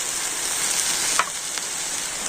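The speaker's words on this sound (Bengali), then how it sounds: "তো 2 রকম সস দিয়ে এটা নাড়াচাড়া করে নিলেই" A pan dish with tomato sauce and soy sauce sizzling steadily at close range, with a single brief stirring scrape partway through.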